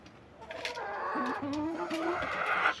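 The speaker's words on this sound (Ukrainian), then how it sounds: "Ось погляньте, яка курочка гарненька." Backyard chickens, with young hens and a small rooster, give soft, throaty clucks and a brief wavering call, close by, over a low farmyard murmur.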